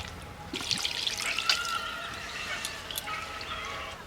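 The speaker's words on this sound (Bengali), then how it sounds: "এবার পরিমাণ মতো জল দিয়ে দেবো" Water is poured gently into a pan of potatoes coated in curd, a soft close trickle and splash that swells and then settles into a quiet dribble, with no talking.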